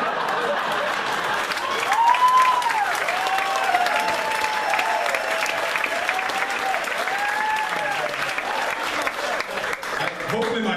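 Comedy club audience at The Comedy Zone applauding after a joke, sustained dense clapping that swells near the start and holds steady throughout, with a comedian's voice talking over it.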